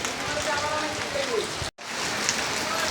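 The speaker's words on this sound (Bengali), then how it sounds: "তুমুল বৃষ্টি পড়তেছে এখন। এরকম বৃষ্টি আমরা চাই।" Heavy rain pours down in a dense, steady hiss of drops hitting surfaces, loud and close, broken by one very brief dropout midway.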